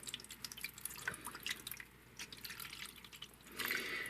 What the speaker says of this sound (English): So, let's get some water in here, seal this back up, and see if I can shake out any drops.